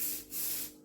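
A steady aerosol hiss from a can of cooking and baking spray coating tomatoes for roasting, two sustained bursts with a short pause between, close and fairly loud.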